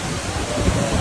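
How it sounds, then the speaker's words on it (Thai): Rain falls in a dense, steady wash of noise, close and fairly loud throughout the brief moment. "จุดพีคคือฝนมันตกนะครับ"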